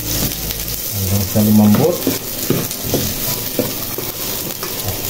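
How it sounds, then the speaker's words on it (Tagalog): Chopped onion sizzling in hot cooking oil in a pan for a Filipino sautéed bitter melon dish, a loud, steady frying hiss with stirring, while someone speaks over it. "So yan, mainit na ang ating mantika. Ilagay na natin ang sibuyas,"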